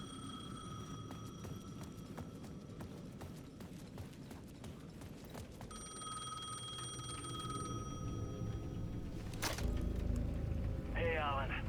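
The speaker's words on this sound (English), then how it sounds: "The payphone at the edge of the plaza was ringing again." In the video game Alan Wake 2, a payphone at the edge of a plaza rings in repeated electronic bursts amid ambient game sounds, with a voice talking over it.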